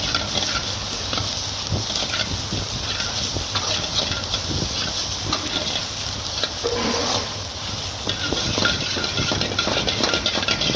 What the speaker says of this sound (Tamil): அதை கட் பண்ண இட்லியை போட்டு நல்லா வதக்கணும்